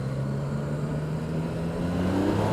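Yamaha MT-09 SP motorcycle engine pulling steadily under acceleration, a continuous mid-pitched drone with rising tone, loud and close, no talk.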